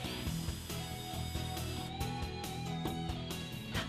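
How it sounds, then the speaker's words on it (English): Rapid, rhythmic scraping and grinding of a tool deburring drilled holes in metal on a Land Rover Defender door, close and continuous, with faint ringing tones underneath. "Deburr the holes"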